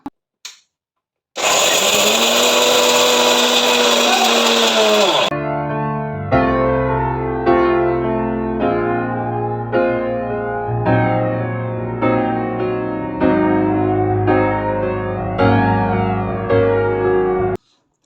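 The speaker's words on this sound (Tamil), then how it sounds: "பிளாக் ட்ரை கிரேப்ஸ் இந்த மாதிரியான நட்ஸ் ஐட்டம்ஸ் எல்லாம் எடுத்து கொரகொரப்பாக அரைச்சி எடுத்துக்க போகிறோம்" A mixer grinder coarsely grinds nuts and black dry grapes, starting with a loud continuous whir, then running in a series of short repeated pulses with brief pauses between them, close and alone with no talk.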